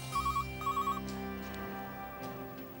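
A telephone rings in a domestic drama scene, two short trilling electronic bursts in quick succession over a background music bed.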